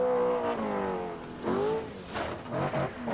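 A 1982 rally car engine on the Welsh Rally Sprint revs hard and loud, climbing in pitch, dropping briefly through a gear change, then surging again in rising bursts.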